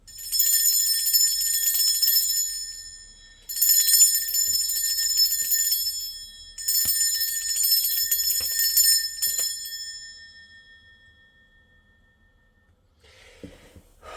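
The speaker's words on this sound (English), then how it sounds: "I'm going to be ringing this bell just to cleanse the space around us." A bell rung to cleanse a space gives three long, bright ringing strikes, each sustaining for a few seconds, the last one fading out slowly, followed by quiet rustling.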